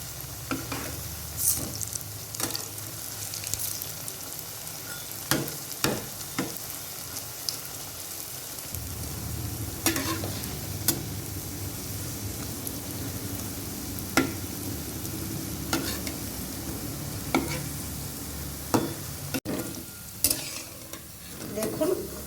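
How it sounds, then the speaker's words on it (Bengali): Chana dal fritters sizzle steadily in hot oil, with occasional clinks and scrapes of a spoon stirring and turning them; no one speaks. "সবগুলো বড়া একইভাবে ভেজে নেব"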